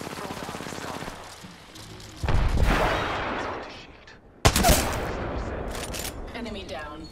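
Gunfire in the Apex Legends battle royale game: sharp rapid shot bursts and two loud impacts with ringing decay, close and dense, while a voice talks over the action.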